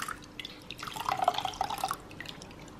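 Water pours into a bowl of crepe batter and egg, a quiet splashing trickle with light drips that swells briefly and then fades.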